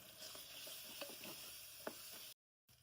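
Curry paste and coriander powder fry in a pan for a bean and lentil curry, giving a steady close sizzle with occasional stirring taps before a short dropout of silence.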